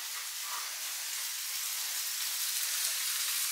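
Steak and eggs frying in a pan in a home kitchen, a steady bright sizzle and hiss that holds evenly from start to finish, with no voices.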